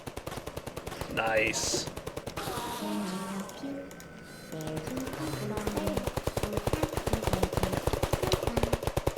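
Rapid automatic gunfire from a sentry gun in the shooter game Ender Assault, with bursts rattling continuously throughout, briefly easing midway, and a voice speaking over the fire.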